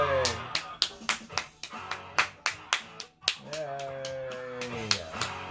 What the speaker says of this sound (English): There, I clapped.